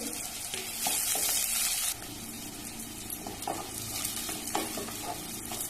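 Ten to twelve garlic cloves and curry leaves drop into a few spoons of hot oil, hissing in a loud crackling burst at first, then settling into a steadier sizzle with occasional spoon scrapes and stirring, close and alone.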